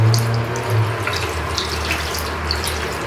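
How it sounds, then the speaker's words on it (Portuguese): Tap water runs steadily into a sink while a paint brush is rinsed, a close, continuous splashing flow with small drips and bubbling as the bristles are worked under the stream. "Eu deixo encher a água, eu aperto, aí eu mexo aqui no meio para entrar."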